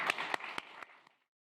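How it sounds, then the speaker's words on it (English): Sparse clapping from an audience after a panel, a few distinct claps that taper off into silence within about a second. "Round of applause for our first"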